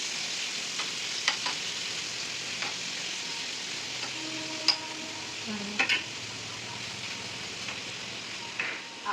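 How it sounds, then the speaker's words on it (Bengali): Chicken is fried lightly in a pan, making a quiet, even sizzle with a few scattered spatula clicks and one short scrape. No voices are heard. "তো চিকেনটাকে আমরা হালকা ফ্রাই করে ভেজে দেবো"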